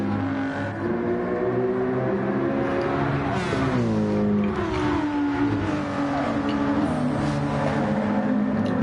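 F1 race cars in Gran Turismo 7 at Watkins Glen, whining engines rising and falling in pitch as several cars battle for position through the corners, loud and continuous.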